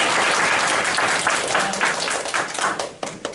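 Dense audience applause for a guest lecturer at a Kyung Hee University campus special lecture, steady many-handed clapping filling the hall, loud and continuous, tapering slightly near the end.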